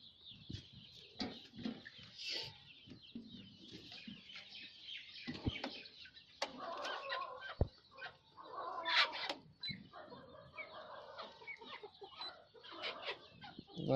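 Chickens cluck in scattered, irregular bursts, close by on a poultry farm where young birds are being weighed, with some handling noise between the calls.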